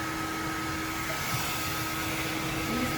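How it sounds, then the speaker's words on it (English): A blow dryer runs continuously at close range while hair is styled with a round brush, giving a loud, steady rush of air with a faint whine. "Use your blow dryer to help you control it."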